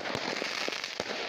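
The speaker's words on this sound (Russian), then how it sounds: "взрыв петард и другой пиротехники." Firecrackers and fireworks pop in a few sharp, distant bangs over a steady hissing wash, with no voices.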